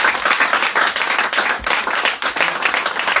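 A worship congregation claps together in dense, loud, sustained applause, with many hands blending into a steady wash of sound and no clear speech.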